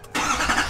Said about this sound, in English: Obviously when you start the truck